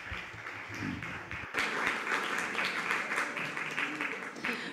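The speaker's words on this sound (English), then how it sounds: "Clément Cogitor, a warm round of applause for the French director." Press conference audience at a film festival awards event applauding a French director, faint clapping that swells after a brief voice and continues as a dense, even patter throughout.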